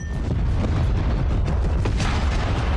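A powerful explosion in the action film John Wick 4, a loud sustained rumbling boom with crackling debris and no speech.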